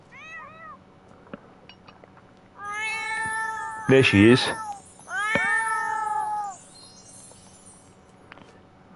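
A cat meows in The Sims 4, a few rising cries at the start then longer drawn-out meows near the middle, with a person speaking briefly over it.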